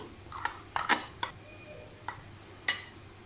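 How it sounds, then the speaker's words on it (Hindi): A metal spoon stirs flour, salt and water in a bowl, giving a handful of light scattered clinks and scrapes against a quiet background. "और इसे पहले चम्मच से मिलाऊंगी"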